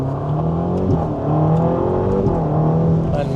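A new Ferrari accelerating hard, its engine note close and loud, climbing steadily in pitch as it revs through the gears over a few seconds, with no talk.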